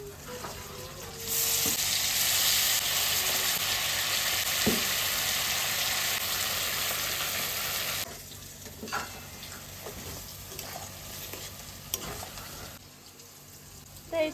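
Fish hits hot oil with dried chillies and nigella seeds, setting off a loud, dense sizzle that holds for several seconds and then drops to a quieter crackle with occasional clinks.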